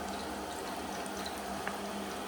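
Chicken wings in their first fry with garlic, bubbling steadily in hot oil, a dense continuous sizzle and crackle heard close up with no talking.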